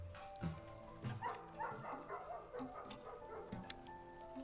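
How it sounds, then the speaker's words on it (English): Dog barks and yips from the video game Night in the Woods, a handful of short bursts spread across the moment over steady game music and ambience, fairly close and moderately loud. "The dog sounds so lifelike."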